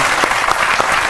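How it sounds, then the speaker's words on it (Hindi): Applause from an audience at a show where a boy answers geography questions, a steady dense patter of clapping with periodic stronger bursts, loud and close, with no talk over it. "और से ताली बजेगी अब देखो"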